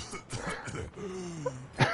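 A few rough coughs and throat-clearing sounds from a character in Overwatch on PlayStation 5 come through, mixed with muffled background noise and a faint tone.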